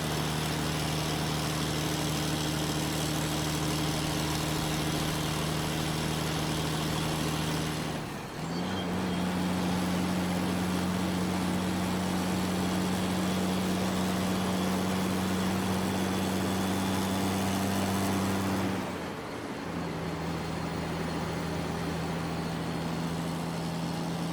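Heavy red logging trucks climb a mountain road under full log loads, their engines a steady, loud low drone with a strong low hum that dips briefly twice before resuming.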